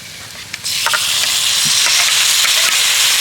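Deboned lote fish dropped into hot spiced oil in a pan, a loud steady sizzle and frying hiss building after a soft clatter, with stirring scrapes throughout and no talk.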